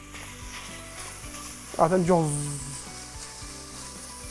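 Meat dropped into a preheated cooking pot bursts into a loud sizzle that quickly peaks and then fades into a softer steady frying hiss.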